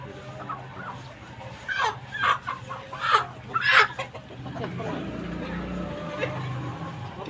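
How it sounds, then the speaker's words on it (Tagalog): Chickens at a market cluck and squawk in short bursts close by, with a few louder calls rising over a busy background of voices and crowd murmur. "Ito yung binili ko manok guys."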